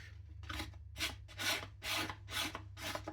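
A gyuto chef knife is drawn across a whetstone in about six quiet, evenly spaced rasping strokes, each a short scrape followed by a brief pause, close up with no talking.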